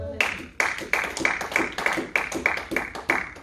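A church congregation claps together to acclaim Jesus during a French-language sermon, a steady run of about ten loud, evenly spaced claps close by, with voices faintly underneath.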